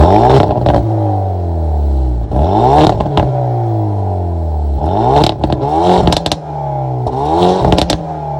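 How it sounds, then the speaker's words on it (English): A 2022 Hyundai Veloster N's 2-liter turbocharged four-cylinder engine revs repeatedly, climbing and falling in several loud bursts with crackles and pops between the pulls. "that was of course the sound of the 2-liter turbo 4-cylinder sold by Hyundai"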